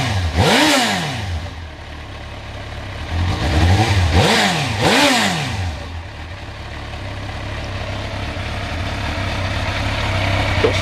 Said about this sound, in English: Give the throttle a quick flip for you.